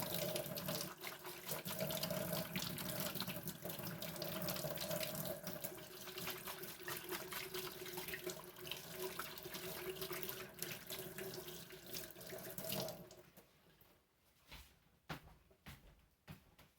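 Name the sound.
water running from tap while washing hands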